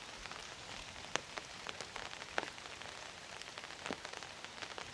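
Light rain falls steadily in a Bangladeshi village, a soft, even patter on surfaces broken by occasional sharper drips, faint and with no voices.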